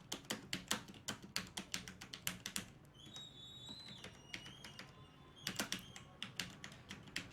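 Someone types a university name on a computer keyboard with quick, faint keystrokes in short bursts and a brief pause midway. The room is quiet apart from the keys.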